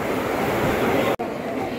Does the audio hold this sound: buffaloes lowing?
no